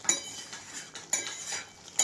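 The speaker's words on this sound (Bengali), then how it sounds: "একটু চালাবো।" Goat meat curry being stirred in a cooking pot, with a few sharp metallic clinks of a spoon against the pot and soft scraping in between, close and moderately loud, no talking.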